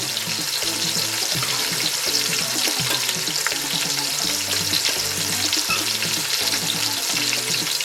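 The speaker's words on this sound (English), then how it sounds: "I'm gonna caramelize this onion first." Loud, continuous sizzling of onions frying in a pan, a dense crackling hiss throughout with a low repeating hum underneath, no speech.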